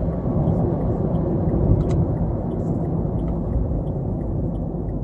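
A Dacia Sandero Easy R accelerating on a motorway, with a steady, loud low engine and road rumble heard from inside the car, no talk.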